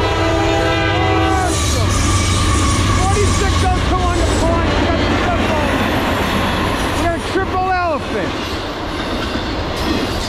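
A Norfolk Southern freight train, eastbound 24X with 266 axles, rumbles past loudly and steadily, with bright horn blasts sounding repeatedly over the grinding of wheels and rail.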